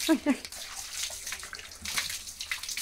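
Water splashes and pours as a baby is washed in a bath, a close, continuous wet rush with small splashes, while a voice talks softly over it.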